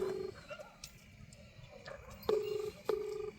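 A telephone number being dialed, with short keypad tones in a brief cluster near the start and two more single tones later, fairly clear over low background noise.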